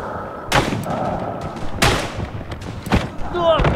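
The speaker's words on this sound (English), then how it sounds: "A German on the machine gun, I guess." Gunfire in the World War I video game Tannenberg, with a German on a machine gun: several loud, sharp shots boom out at irregular intervals, and players talk over them.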